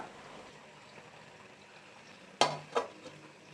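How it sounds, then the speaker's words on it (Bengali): Jute leaf greens stirred in a cooking pan, heard as a soft low sizzle under two sharp, close clinks of the spatula against the pan near the end, with no talking. "আর এই দিক দিয়ে আমি এটাকে একটু নাড়াচাড়া দিয়ে নিচ্ছি"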